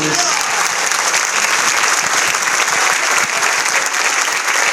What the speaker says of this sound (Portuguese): salva de palmas para Deus.